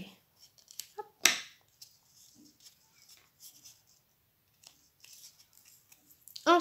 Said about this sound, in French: Et je viens donc couper.